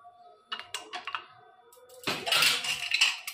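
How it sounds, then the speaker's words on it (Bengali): A metal lid being set and closed onto a cooking pot of dal, a few light clinks and taps followed by a brief louder metallic clatter. "ঢাকনাটা আমি বন্ধ করে দিলাম।"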